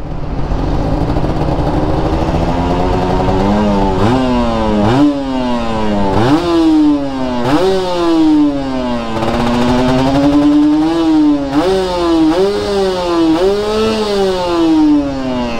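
A Kawasaki Ninja RR two-stroke motorcycle engine on a stock exhaust revs loudly and close, rising in repeated quick blips and sweeps over a rattly two-stroke idle, with no talking.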